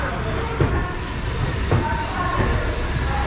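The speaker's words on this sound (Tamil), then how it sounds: "மயிலாடுதுறைக்கு எல்லாமே போகிற மேமு ட்ரெயின் வந்து இங்கேருந்து ஸ்டார்ட் ஆகுது" A MEMU electric passenger train running from Viluppuram to Chennai Egmore rumbles steadily nearby with a broad, continuous roar, occasional metallic clanks and a faint high whine, with no clear voices.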